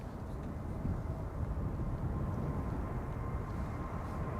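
A Croatia Airlines Airbus A220 departs Amsterdam Schiphol, its engines giving a steady, loud, broadband roar close by, with no talk.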